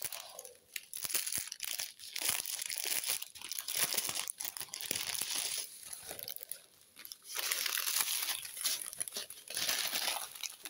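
Plastic packet of diamond painting rhinestones being opened by hand, close crinkling, tearing and rustling of plastic in fairly continuous bursts with brief pauses, no voices.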